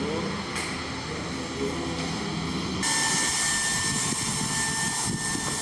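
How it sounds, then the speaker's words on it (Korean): An airplane lands on a runway at an Indonesian airport close to the town, a steady broad engine roar that grows louder and denser midway as it touches down. "시내를 통과하자마자 비행기가 활주로에 내린다."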